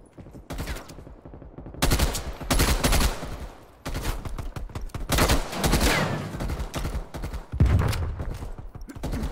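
Gunfire in the Call of Duty: Warzone video game, with repeated loud bursts of automatic fire and single shots spread across several seconds. The shots come close and sharp, with brief pauses between volleys and no talking.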